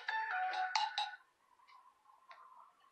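A phone rings on an outgoing call to a prospective rent-to-own tenant buyer, giving a loud repeating electronic ringback burst, then a pause and fainter short tones.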